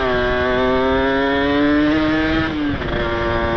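A Kawasaki Ninja RR motorcycle, its carburettor running too rich and bogging, revs loudly and close with a steady, slightly rising engine drone. The revs then dip abruptly and settle back.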